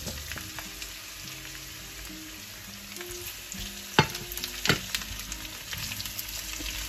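Potatoes frying with lightly browned onions in a pan give a continuous hiss, with two louder stirring knocks near the end.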